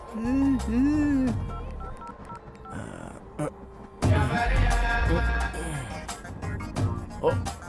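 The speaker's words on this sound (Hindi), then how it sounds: "इससे मैं अपने सेल फोन पर एक मिस कॉल करता" A mobile phone dials a number in a Hindi-dubbed action movie, giving short electronic keypad tones mixed with voices and other film sound.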